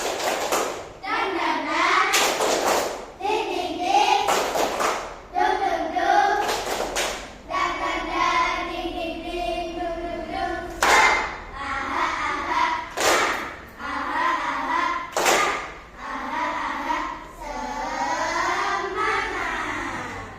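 Children in a classroom perform a rhythmic 'tepuk semangat' clapping chant, sharp claps falling in patterned bursts between sung or chanted voices, loud and close throughout.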